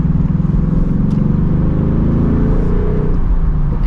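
A 2024 Ford Mustang GT with a manual gearbox and stock exhaust drones loudly from inside the cabin, its engine note rising and falling as gears change, steady and close with no talking.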